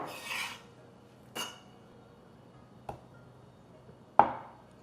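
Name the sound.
knife cutting tofu into cubes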